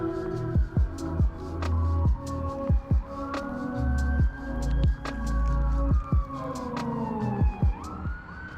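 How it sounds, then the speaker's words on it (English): Emergency sirens wail and sweep in pitch on a city street at night, loud and close, with rapid yelping bursts cutting in repeatedly over a low engine hum. "I heard the sirens coming"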